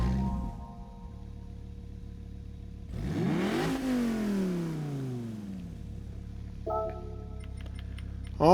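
A 2002 Dodge Viper GTS engine in the video game Gran Turismo 7 cranks and roars to life around the middle, revving up then settling into a steady idle, with faint ticking and chimes before and after.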